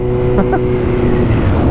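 A loud motorcycle engine roars steadily and revs up close by in Spain, with a brief voice cutting in early.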